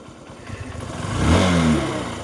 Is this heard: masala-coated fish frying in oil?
no